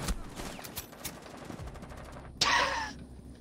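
Gunfire in Rainbow Six Siege, several quick muffled shots early on followed by one louder, sharper crack with a ringing tail near the end.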